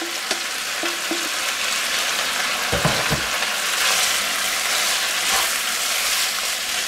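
Pork, beans and mushrooms are stir-fried together in a wok, giving a loud, continuous sizzle with a few clattering stirs and scrapes near the middle.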